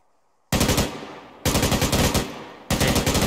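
Crew-served machine gun firing long sustained bursts, loud and close, three bursts of rapid continuous fire separated by very brief pauses.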